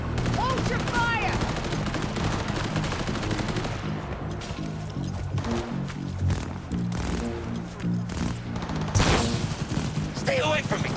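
Rapid bursts of gunfire in the video game Cyberpunk 2077, loud and close, mixed with shouting voices and game noise throughout.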